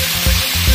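Spice paste of ground ginger, cumin and green chili hits a hot frying pan of fried food, giving a loud, steady sizzle up close with slight pulsing surges and no talking.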